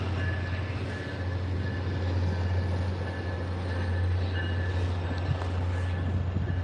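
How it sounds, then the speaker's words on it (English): A train approaches on the Northeast Corridor, a continuous low rumble with a steady, airy roar that holds throughout at moderate distance. "All right, you see a train coming."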